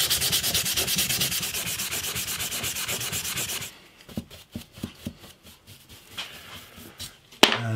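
Bass guitar neck being sanded by hand with 600 grit sandpaper, fast rhythmic rubbing strokes close by for several seconds, then a few slower scattered scrapes and a sharp knock.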